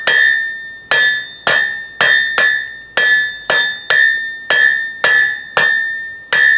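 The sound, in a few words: blacksmith hammering metal, fullering and tapering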